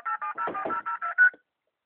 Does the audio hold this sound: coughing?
no